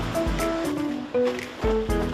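Winter ocean surf breaking at Jukdo Beach in Yangyang, a steady close wash of waves with a couple of louder surges rolling in, no voices.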